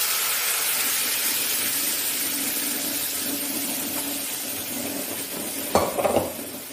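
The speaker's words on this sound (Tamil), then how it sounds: "பாசிப்பருப்பை இப்போ நம்ம இதில் சேர்த்துடலாம்." Cooked moong dal tipped into hot ghee in a pan and stirred for a sweet, giving a steady, even sizzle with a short, louder rush of frying and scraping near the end.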